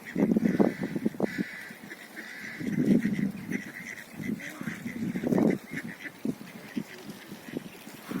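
A flock of ducks calls in a dense, continuous chorus of quacks and honks, fairly close, with faint voices now and then.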